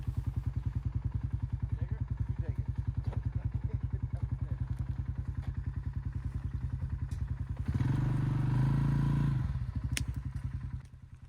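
A motorbike labors up a steep, rocky mountainside trail, its engine chugging in a steady close pulse with clatter and thumps from the rough ground, then surging louder for a couple of seconds before easing back.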